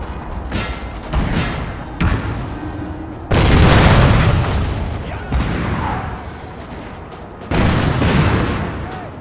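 Cannon artillery booms in Napoleon: Total War, a series of loud, heavy blasts spaced a second or two apart, each rolling off into a long rumble amid continuous battlefield noise.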